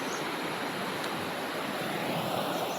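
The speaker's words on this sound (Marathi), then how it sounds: "बघू शकता ओढा किती वाहतोय एकदम छान प्रकारे" A full, fast-flowing stream gives off a steady, dense rushing of water outdoors that holds even and unbroken throughout, close and moderately loud, with no voices.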